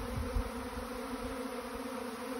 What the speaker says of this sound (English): You probably can hear that buzzing noise too.